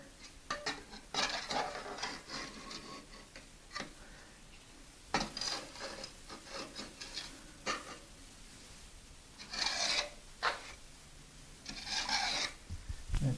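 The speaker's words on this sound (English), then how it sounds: "So you can take a putty knife and just kind of gently" A putty knife scrapes grout from a tight corner of a tiled shower wall, making repeated short gritty rasping strokes in bursts, with small clicks and taps between them, close and moderately loud.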